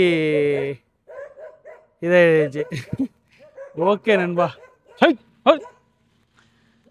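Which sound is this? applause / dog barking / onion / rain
dog barking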